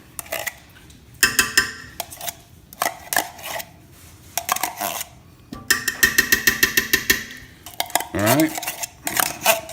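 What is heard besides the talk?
metal spoon scraping and stirring tomato paste in a pot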